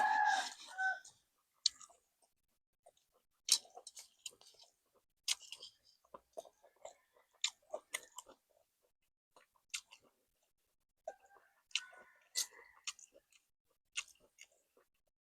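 Close, wet chewing and smacking while eating a boiled frog dish, irregular crunchy clicks and mouth sounds in bursts between short pauses, with a brief voice at the start.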